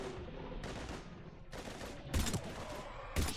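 Bursts of gunfire from the Mass Effect 3 video game, with sharp loud volleys cutting in repeatedly over a dense, continuous background of battle noise.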